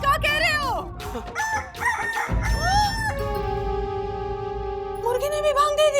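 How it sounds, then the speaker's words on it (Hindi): A rooster crows several times, loud and close, with long drawn-out calls separated by brief gaps and a sustained final crow, mixed with other fowl clucking and some background noise. "मुर्गी ने भी भांग दे दी"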